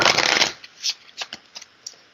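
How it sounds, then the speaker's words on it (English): Oracle cards from a Spirit Messages deck being shuffled: a dense, loud riffling burst for half a second, then a few separate soft snaps and taps as cards settle, with no talking. "I should have been shuffling while I was talking."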